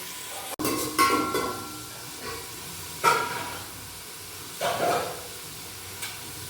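Carrots frying in a pan in a home kitchen, with a soft steady sizzle broken by a few brief stirring bursts and scrapes, one sharp click near the start, no voices.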